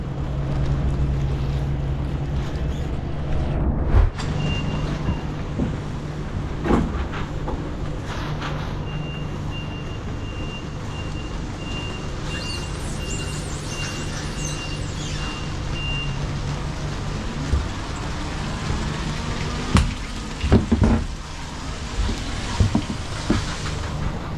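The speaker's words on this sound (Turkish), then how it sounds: "Bayağı yağmur yağıyor" Heavy rain pours steadily as cargo is unloaded from a semi-truck, a dense continuous hiss lasting throughout, with occasional knocks and thumps and a faint beeping tone in the middle.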